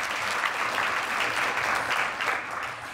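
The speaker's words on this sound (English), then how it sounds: "So a round of applause for Dr." Indoor audience at a school academies recognition event applauding, dense steady clapping from a sizable crowd that tapers slightly near the end.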